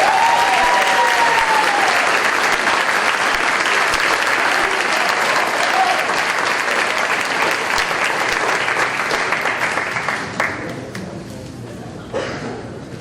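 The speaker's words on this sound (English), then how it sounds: "Let's give a round of applause to this year's Army Reserve National Scholar Athletes, Jamie Specka and Zachary Wow." Sustained audience applause fills a high school senior awards ceremony, steady and dense before tapering toward the end, with a brief voice at the start.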